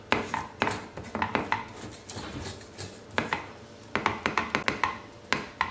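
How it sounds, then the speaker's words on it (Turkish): A spoon stirs melting sugar in a pan over low heat, tapping and scraping the metal in lively clusters of sharp clicks with short pauses, close up and without any talking. "Artık karıştırıyorum şöyle."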